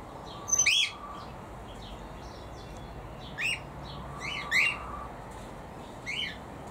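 An upset, puffed-up male pheasant in an aviary gives several short, sharp chirping calls in brief bursts, fairly faint above a steady outdoor hiss.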